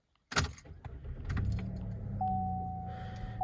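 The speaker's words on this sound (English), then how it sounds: "And now I'll start up the truck for y'all." Keys jangle, then a Chevy Colorado pickup engine cranks and catches, settling into a low steady idle with a faint whine over it.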